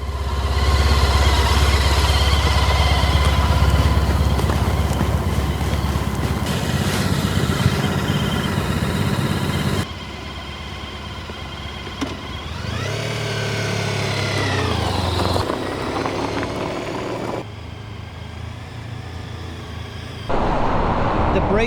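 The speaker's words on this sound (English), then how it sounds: "I find that the stock exhaust on this is very nice sounding" Honda ST1300 Pan European motorcycle with its stock exhaust, riding along the road at around 55 mph, a steady engine drone with shifting pitch and rushing wind and traffic noise, changing in level at a few points along the ride.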